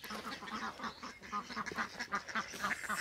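Indian Runner ducks at a farm quacking continuously in rapid, overlapping bursts, fairly close and with nobody speaking.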